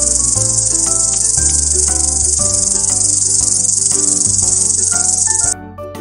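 Grasshopper chirping, a dense, loud, continuous insect trill that runs steadily for over five seconds before cutting off abruptly, heard over a soft musical backing.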